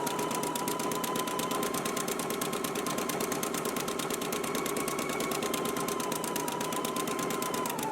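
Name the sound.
sewing machine stitching seams with zigzag stitch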